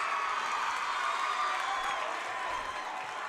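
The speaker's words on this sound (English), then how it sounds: "we're going to hear the Hills crowd now" Home crowd from Morris Hills cheering and shouting at a varsity boys wrestling match against Morris Knolls, a steady dense roar of many voices filling the gym without a break.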